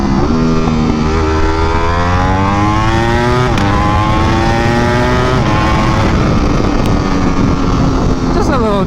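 A Ducati Panigale V4 Superleggera superbike engine revs loud and close, its pitch climbing in long sweeps as it pulls up through the gears with brief dips between shifts.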